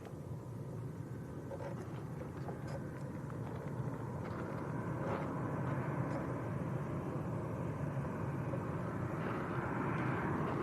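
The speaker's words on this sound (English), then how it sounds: "This is Norwegian from Oslo. 737-800." A Norwegian Boeing 737-800 in from Oslo at Lanzarote Airport gives a steady, broadband jet roar that swells slightly after a few seconds and holds at moderate distance, with no talk over it.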